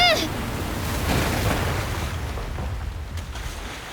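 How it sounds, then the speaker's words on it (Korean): Rough sea waves heave and crash against a rocking boat, a continuous loud, broadband wash of surging water and wind that swells and eases without a break. "거친 파도로 배가 심하게 흔들리기 시작했다"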